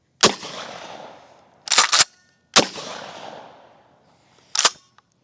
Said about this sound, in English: Didn't quite expect that big of an explosion from the mini shells